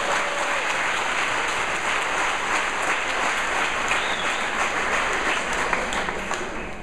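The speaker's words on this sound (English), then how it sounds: "Give them a major round of applause." Audience applause at a parenting and small business graduation ceremony in Jamaica, a full, steady roar of many hands clapping that holds evenly for several seconds before easing slightly at the end.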